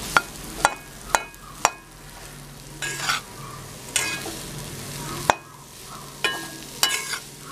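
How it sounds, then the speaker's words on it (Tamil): Elephant yam pieces fry in hot oil with a steady close sizzle, broken by repeated sharp clinks and scraping stirs of a utensil against the pan. "இது நல்லா ஃப்ரை ஆகட்டும்."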